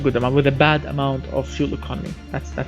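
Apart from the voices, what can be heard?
No distinct noise like a dog, phone or traffic.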